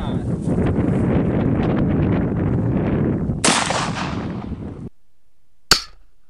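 An AK-47 fires 7.62x39 rounds at aluminum and stainless steel plates outdoors. Wind roars on the microphone before one sharp, loud shot cracks near the end.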